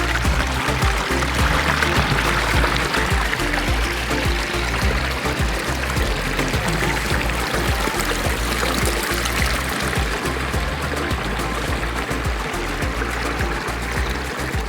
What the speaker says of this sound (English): water falls, pulls up, falls, pulls up, and that's what we try to emulate with the way we build our water features